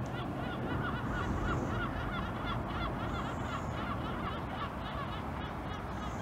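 Geese and other fowl honk and chatter continuously beside a pond, a dense, moderately loud flock of overlapping calls with no speech.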